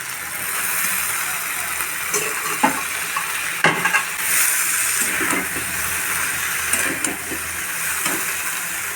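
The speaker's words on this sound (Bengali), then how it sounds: "আবারও একটু ভালো করে নাড়াচাড়া করে নেবো নিয়ে সেদ্ধ করে রাখা লাউ ডাঁটাটা এর মধ্যে মিশিয়ে" Boiled bottle gourd stems are stirred into vegetables frying in a pan: a steady oily sizzle runs throughout, broken by several scraping spoon strokes and clinks against the pot, close and fairly loud with no talking.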